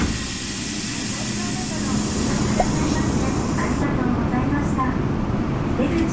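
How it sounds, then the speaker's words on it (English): Inside a Tokyo Hibiya line subway train heading to Nakameguro: a loud, continuous rumble and airy hiss of the moving carriage, with faint voices in the background. "to get to Nakameguro, it's just the one train on the Hibiya line"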